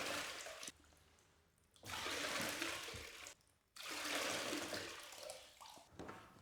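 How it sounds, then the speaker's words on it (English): Water draining from a house radiator during a home renovation, a steady rushing and trickling flow that swells and drops back in surges, close but fairly quiet. "I then spent the next 45 minutes thinking I was draining the water from the radiator"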